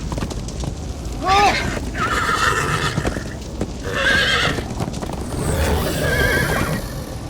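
Horses whinny loudly several times in the video game Minecraft: Story Mode, over a busy background of hoofbeats and commotion, with voices mixed in.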